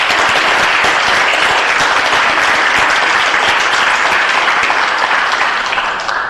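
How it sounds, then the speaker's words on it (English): Audience applause at a city council meeting, a dense, loud wash of many people clapping in a meeting hall, sustained evenly and then fading slightly at the close. "So let's give them a round of applause for that."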